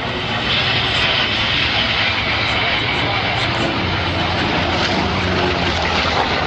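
A loud, continuous piston engine roar from a Skyraider aircraft drones steadily throughout at the Duxford Flying Legends airshow, with a voice talking faintly beneath the noise.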